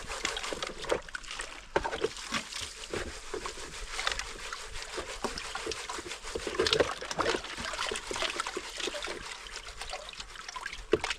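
Water sloshes and trickles in a gold pan during panning: irregular splashes and swirls sound close and fairly quiet, rising and falling in uneven bursts over about eleven seconds.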